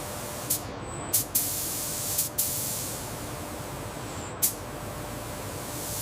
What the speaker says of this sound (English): low-pressure systems ensure a uniform paint distribution across the complex double-deck geometry